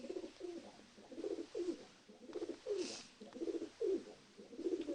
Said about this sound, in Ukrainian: бачите, воркує голуб